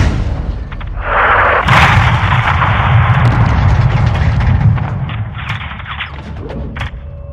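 An airstrike in Call of Duty: Modern Warfare II levels a building with loud, heavy explosions that roll into a long, rumbling roar for several seconds before fading, with no talk.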